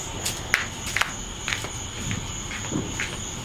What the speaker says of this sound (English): Y'all hear all those frogs?